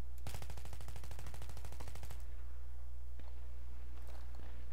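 Rapid automatic gunfire from the video game Battlefield 3, a loud rattling burst of about two seconds with evenly spaced shots, then quieter scattered distant shots over a steady background hum.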